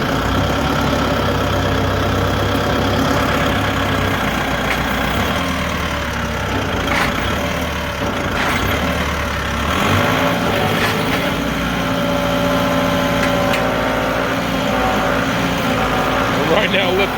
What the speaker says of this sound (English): I'm right now lifting the back end of the tractor up off the ground.